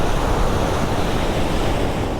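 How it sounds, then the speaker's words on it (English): Athabasca Falls on the Icefields Parkway in the Canadian Rockies, a constant loud roar of rushing water heard alone without pause. "the Icefields Parkway delivers with an absolutely stunning waterfall, the Athabasca waterfall"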